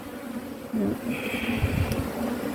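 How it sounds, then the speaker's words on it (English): A soft, steady buzzing of many honeybees hums close by at a hive, with a faint higher whine drifting over it. "there were so many bees, I was afraid they were going to swarm"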